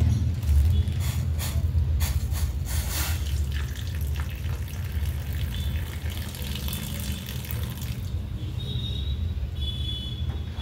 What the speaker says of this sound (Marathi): पाणी टाकून घेणार आहोत.